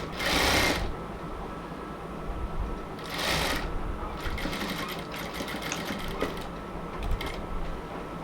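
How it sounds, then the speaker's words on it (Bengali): A sewing machine stitching fabric around an elastic waistband of a salwar pant, running in short close bursts of rapid whirring with brief pauses and fabric handling between runs. "আমাদেরকে এখন কাপড়টা মুভ করে করে সেলাই করতে হবে"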